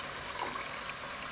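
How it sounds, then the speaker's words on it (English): Water pours slowly into a pot of rice, a soft steady liquid rush with faint trickling detail, continuous and close for about a second. "Now we're just gonna pour some more water in, but this time pour it in really slowly"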